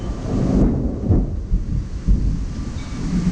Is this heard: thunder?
yes